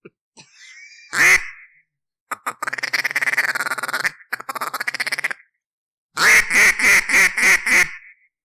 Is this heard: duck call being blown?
yes